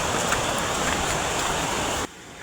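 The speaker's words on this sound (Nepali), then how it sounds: "खोला है यो हाम्रो गाउँको तेस्रो खोला" A small mountain stream near a village rushes in a steady, loud broadband wash close by, cutting off abruptly near the end into near silence.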